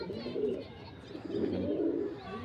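A young male Panjabi pigeon coos in two soft, throaty, rolling bursts, close by, with faint background murmur.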